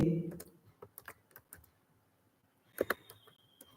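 Quick irregular keystrokes on a computer keyboard, a spaced run of clicks followed by a short dense cluster, close and distinct, with a brief voice sound at the very start.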